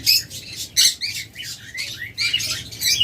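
A pair of pet lutino red-head opaline birds call in repeated bright, harsh chirps and squawks, close and loud, in quick irregular bursts over a faint low background hum.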